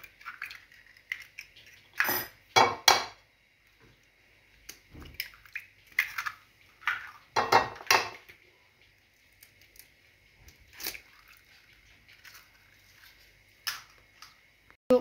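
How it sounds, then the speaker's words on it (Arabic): Eggs whisked by hand in a bowl for a lemon cake: irregular bursts of quick clicking strokes against the bowl, close and clear, separated by short pauses. "تقدر دير تضرب البيض بهذا بالباطور ولا بالضرب"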